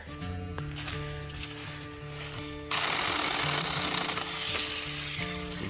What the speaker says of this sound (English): we're out here testing this SAKER chainsaw